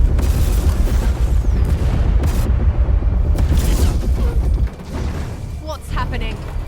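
Heavy booming warship gun salvos in a Warhammer 40k space battle, loud rumbling blasts with deep low-end that drop off near the end, with game voices and effects around them.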